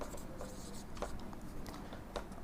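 Chalk or marker writing on a board in a physics lecture on optics and refraction, heard as faint scratchy strokes in a few brief bursts over steady room noise, with no talk.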